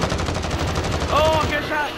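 Rapid gunfire in a shooting video game, bursts of shots rattling close and loud, with a voice briefly calling out over the firing.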